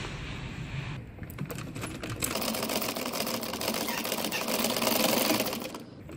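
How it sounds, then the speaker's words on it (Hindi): A sewing machine stitching a baby boy's shirt, a fast, even mechanical whirring close by that starts after a brief pause and keeps running almost to the end. "चलिए अब सिलाई लगाते हैं।"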